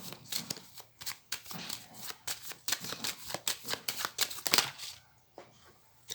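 Tarot cards are shuffled and cut by hand, a quick run of crisp riffling flutters and soft slaps close up, ending in a few lighter taps.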